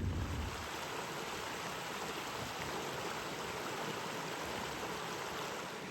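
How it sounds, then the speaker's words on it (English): Deer Creek, a mountain stream along a backcountry trail between Purple Lake and Red's Meadow, flows with a steady, broad rushing wash that is constant and fairly near, with no voices. "We have made it to Deer Creek, which is a nice spot to get some water and take a rest"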